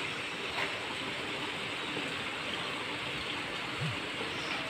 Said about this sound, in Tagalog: Umuulan, no?